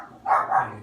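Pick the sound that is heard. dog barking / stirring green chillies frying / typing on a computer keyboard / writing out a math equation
dog barking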